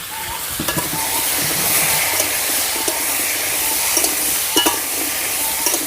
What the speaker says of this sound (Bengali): আলুটাও ভাজা হবে কলাটাও ভাজা হবে